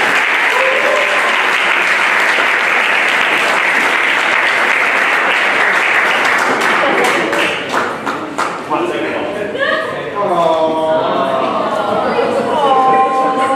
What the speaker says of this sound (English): Ladies and gentlemen, a big round of applause for Brian Lewis.